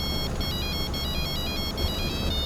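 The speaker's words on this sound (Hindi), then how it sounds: "तुम्हारे फोन पे कोई फोन कर रहा है" A mobile phone ringtone sounds in a police station: a rapid, repeating electronic melody that plays steadily and clearly throughout, with no voices over it.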